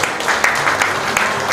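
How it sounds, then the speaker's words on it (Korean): Short burst of dense applause from an audience at a campaign office opening ceremony in Icheon, steady and fairly loud throughout with no talking over it. "다시 한번 이재용 노인장 위원장님께 큰 박수 부탁드리겠습니다."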